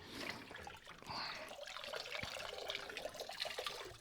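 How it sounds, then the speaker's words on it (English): Water pours into an outdoor medaka fish tub during a water change, a moderately quiet, continuous splashing trickle that swells and fluctuates throughout, with no talking. "Oh yeah, something with water pouring, it's very satisfying."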